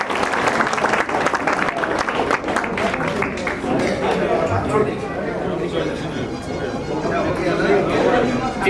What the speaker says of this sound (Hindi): एक बार जोरदार तालियों से सर का स्वागत करेंगे